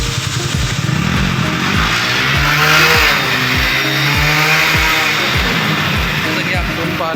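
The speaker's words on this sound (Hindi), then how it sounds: "गाड़ी का आपको साउंड सुनाते हैं कैसा हो गया साउंड।" A Hero Splendor Plus motorcycle engine idling after servicing that replaced its timing chain set, a loud, close, steady single-cylinder putter with regular pulses, with a voice talking over it.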